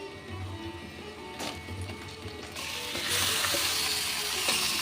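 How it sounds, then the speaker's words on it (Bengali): Chicken pieces fry in a pan with browned onions and spices, a close, continuous sizzle that grows louder and brighter partway through, mixed with a few scraping stirs and no talking. "এবার মাংসটা আমি কিছুটা ভেজে নেব"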